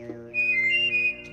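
A short, clear whistle from the game Oddworld: Abe's Oddysee rises and wavers briefly over a low steady hum.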